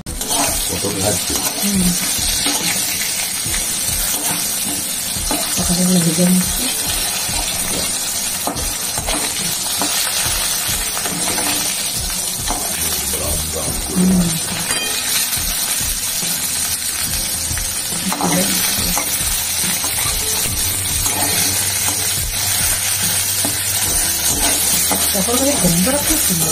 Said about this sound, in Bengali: পটল ভাজছে